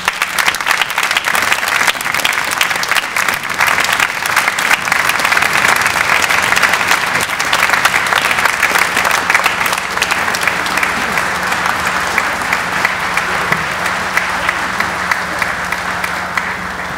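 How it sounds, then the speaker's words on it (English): Sustained, loud applause from a large audience at a university Founders Day ceremony, dense clapping filling the hall for many seconds and tapering slightly toward the end. "Let's give him a round of applause."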